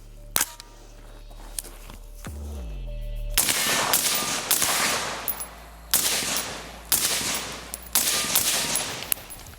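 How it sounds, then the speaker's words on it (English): Suppressed 5.56 AR-15, an Aero Precision 14.5-inch direct-impingement rifle, firing into a berm outdoors: a few isolated early cracks followed by a steady string of sharp, fairly loud shots with ringing tails. "I'm gonna shoot into the berm, see how I can hear that"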